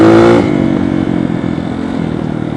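A 2008 dirt bike engine on a trail ride screams at high RPM, then the pitch drops as the throttle eases, leaving a rough, buzzing idle-like drone close to the rider.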